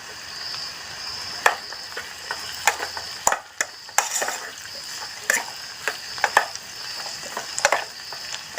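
Tempeh and peanuts frying in a pan at a campsite, a steady close sizzle broken by repeated sharp scrapes and clacks of a utensil stirring against the metal.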